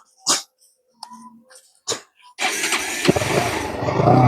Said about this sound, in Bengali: এখন আমি বাইক স্টার্ট দিয়ে আপনাদেরকে দেখাইতেছি